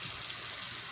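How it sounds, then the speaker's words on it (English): Tap water pours steadily into a sink over dishes being cleaned with baking soda and vinegar, a continuous close gushing wash with no voices. "I'll add some water"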